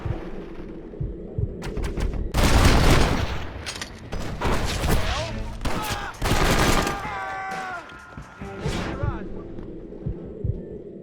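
Pistol fire in the video game Red Dead Redemption, several loud shots and bursts over a heavy, thumping game score, with someone talking over parts of it.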